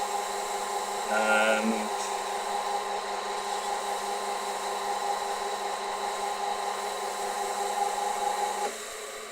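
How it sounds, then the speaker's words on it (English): Hand buffing of wax on a small wooden box: a steady soft hiss and whir continues for the whole span, with a brief louder scrubbing burst early on and one spoken word. "just buffing out the wax"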